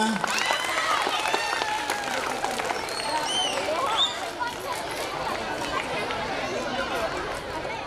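Audience applause at a school annual day programme, steady and dense throughout, with crowd chatter and voices mixed in underneath.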